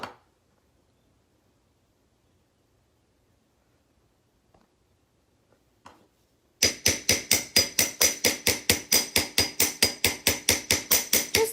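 Ball peen hammer texturing the edge of a brass blank, heard as a long run of rapid, evenly spaced metallic taps, loud and close, starting after several seconds of near silence.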